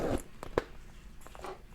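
A short zipper pull on a patent leather computer case close by, a quick raspy zip followed by a few soft handling sounds.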